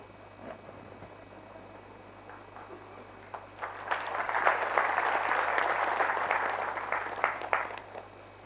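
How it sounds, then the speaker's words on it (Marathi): An audience at a yoga science lecture breaks into applause that builds from scattered claps into a dense, sustained round, then thins out toward the end. "टाळ्या नका वाजवू."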